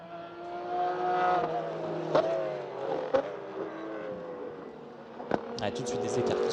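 Race cars, including a Lamborghini and a Porsche 991, run at the Misano circuit during a sprint race, their engines whining and droning at a distance under a commentator's steady talk.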